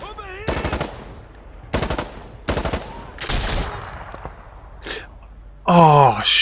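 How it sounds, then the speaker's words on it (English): Rapid gunfire bursts in the video game Insurgency: Sandstorm, several sharp, loud automatic volleys separated by short pauses, followed by a fainter shot and a final noisy burst. "shotgun to the head from behind"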